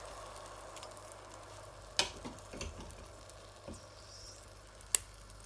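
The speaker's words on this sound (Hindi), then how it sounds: "ये हमने लहसुन अदरक का पेस्ट डाल दिया है इसमें। अब हम इसे भूनेंगे।" Garlic-ginger paste frying in a pan for fish curry: a quiet steady sizzle with occasional sharp clicks and scraping stirs.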